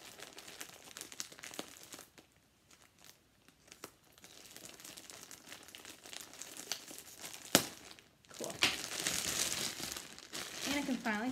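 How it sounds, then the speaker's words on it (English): A plastic yarn bag crinkles and rustles as it is opened after its tape is cut, faint at first and then louder and busier toward the end, with a sharp crackle midway. "I cut the tape here so I can open this,"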